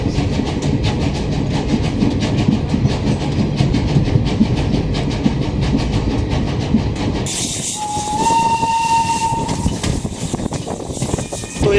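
A Fairy Queen steam locomotive hauling two coaches rumbles and clatters loudly along the track, then gives a prolonged high whistle blast partway through, with rail noise continuing throughout.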